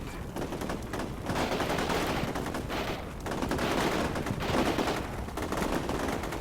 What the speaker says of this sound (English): They're firing everything they have at us. RPGs, whatever they've got.